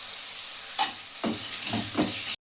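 Onions sautéing in oil with salt, a steady sizzle broken by a few scraping stirs of the pan, close and moderately loud, with no voices.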